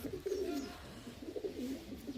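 Kerala pigeons in a loft give soft, low, repeated cooing in short rolling phrases, fairly close but quiet, with no voices over them.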